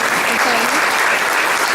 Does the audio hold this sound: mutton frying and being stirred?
no